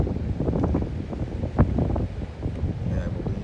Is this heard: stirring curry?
no